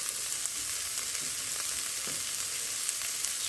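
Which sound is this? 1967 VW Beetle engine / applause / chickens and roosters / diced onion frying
diced onion frying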